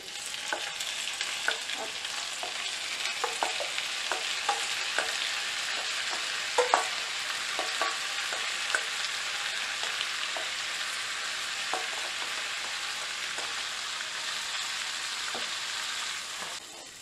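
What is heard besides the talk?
rinsed rice stirred and toasting in melted butter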